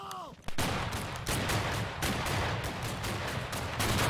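Musket volleys in the Civil War video game Battle Cry of Freedom, a loud, dense barrage of overlapping shots from many rifles, with a voice briefly heard at the very start.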